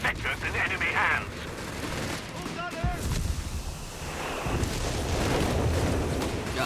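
An artillery barrage hits in the video game Company of Heroes 3, with dense rumbling blasts and gunfire crackle at steady loudness, mixed under game sounds.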